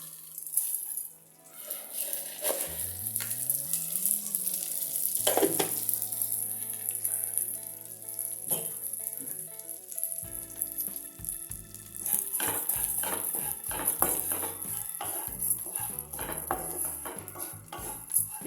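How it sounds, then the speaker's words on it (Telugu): Vermicelli (semiya) frying in ghee for semiya payasam, a bright continuous sizzle with metal utensil scrapes and clinks against the pan as it is stirred, up close, with a faint background tone. "ఇలా నేతిలోనే వేయించుకోవాలండి."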